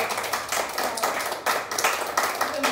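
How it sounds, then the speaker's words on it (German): An audience at a gathering claps in a fairly dense, even patter of many hands, moderately loud and sustained with small rhythmic swells. "da müsst ihr mal klatschen jetzt."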